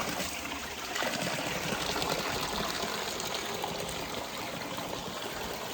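A stream flows in a wooded catchment area, giving a steady, soft rush and trickle of water that stays even and moderately close throughout.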